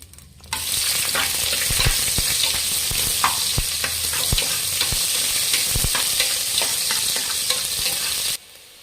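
Onions with curry leaves and bay leaf fry in hot oil for menthya bath, a loud continuous sizzle with repeated spatula scrapes and taps against the pan, no talking.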